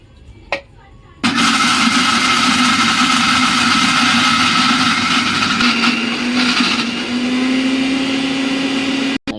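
A mixer grinder grinding fresh coconut for ladoos starts with a sudden loud roar and runs continuously, its motor hum droning steadily for several seconds before stopping abruptly.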